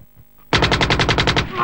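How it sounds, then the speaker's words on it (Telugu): Rapid machine-gun-style burst of about ten evenly spaced loud shots from a gun in a Telugu movie scene, starting abruptly after a quiet moment. "తుపాకీ తుపాకీ."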